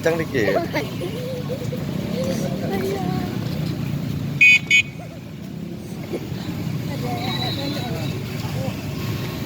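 A short car horn toot or two, sounding briefly over a running engine and road noise, with people talking around it.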